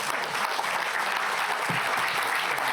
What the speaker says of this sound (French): Tous vos applaudissements